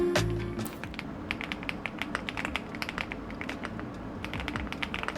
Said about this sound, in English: My main keyboard here is the Inky 75, very simple, just creamy, and very satisfying to type on.